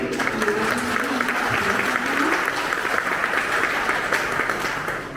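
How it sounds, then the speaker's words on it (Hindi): Loud, sustained applause from an audience welcoming officials at a Harivansh Rai Bachchan birth anniversary event, dense clapping filling the room with faint voices beneath it. "जोरदार तालियों से"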